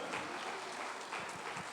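Church congregation applauding during a sermon, a dense steady patter of many hands clapping at once throughout, moderately distant.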